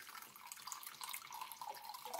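Vinegar is poured into a jar of sliced onion rings with sugar, a faint, steady liquid trickle and splash that continues without a break and has no talk over it.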